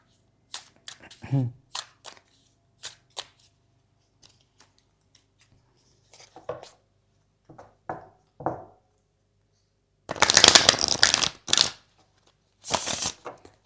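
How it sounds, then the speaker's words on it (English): A deck of tarot cards being shuffled, with scattered light card flicks and taps followed by two loud riffling bursts, close and alone without talk. "let me just take my tarot cards and reshuffle my deck"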